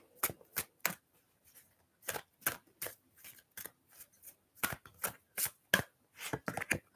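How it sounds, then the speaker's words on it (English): Tarot cards are shuffled in quick, crisp bursts of riffling and flicking, close and fairly quiet, in an irregular rhythm with short pauses between. "I'm gonna shuffle again."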